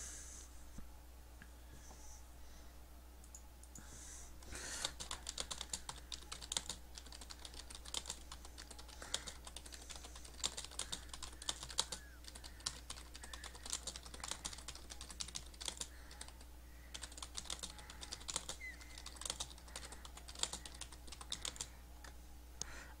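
Someone types on a computer keyboard in a long run of rapid, close clicking keystrokes over a steady low electrical hum. The clicks come in bursts with short pauses, and there is no talk.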